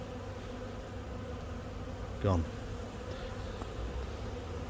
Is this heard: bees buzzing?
yes